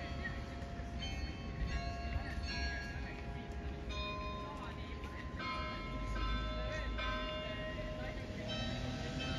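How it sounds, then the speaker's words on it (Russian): Church bells of St. John's Church (Johanneskirche) in Viljandi, Estonia, ring out in a steady series of clear tones over a dense outdoor background rumble, with voices present. "и они пытаются делать колокольную музыку."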